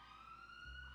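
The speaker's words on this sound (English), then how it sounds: "Sorry for the sirens" A police-style siren wails in the distance, a faint steady tone that rises slowly in pitch, with a low rumble joining near the end.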